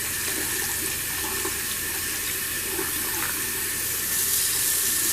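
A bathroom tap runs steadily as a beauty blender sponge is soaked under it, giving an even, close hiss of splashing water that swells slightly toward the end.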